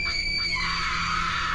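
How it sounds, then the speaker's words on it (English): A woman's sustained, raw, piercing scream used as a horror story sound effect, loud and continuous without a break, with no talking alongside. "A scream tears out of her,"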